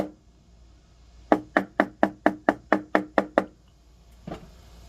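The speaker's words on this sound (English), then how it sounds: "We're going to use a rubber mallet first here." A rubber mallet strikes a gold ring in a rapid run of ten even, dull knocks, followed by a single softer blow after a short pause.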